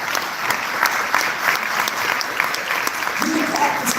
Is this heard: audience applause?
yes